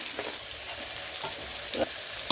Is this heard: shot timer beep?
no